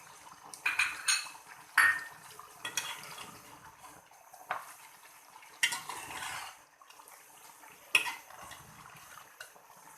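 A spoon scrapes and clanks against a pot while mutton karahi is stirred, giving irregular metallic knocks and scraping bursts close by, with quieter gaps between strokes.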